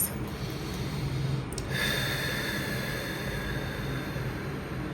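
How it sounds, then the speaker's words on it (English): A person takes slow, deep breaths during a quiet, calm moment, with a soft, airy inhale and a fuller breath near the middle against a steady hiss. "take a couple deep breaths"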